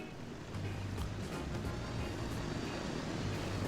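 An airplane in the Transport Fever game flies past as a steady, low engine drone with a broad rushing wash, holding fairly constant and moderately loud throughout.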